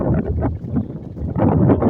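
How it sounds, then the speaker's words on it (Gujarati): Strong wind batters a microphone in an open farm field during sowing, producing loud, continuous low rumbling buffets that surge and fade without pause. "પવન બહુ છે અવાજ ઓછો આવતો છે"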